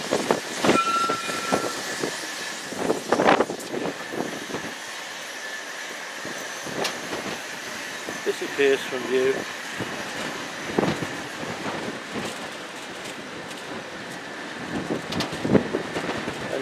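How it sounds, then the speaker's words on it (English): A tram car on the Snaefell mountain railway, Isle of Man, rolls past with rumbling wheels and track clatter. Strong wind buffets the microphone throughout, and the sound fades as the car pulls away, with a few words spoken briefly. "Tram car number 1."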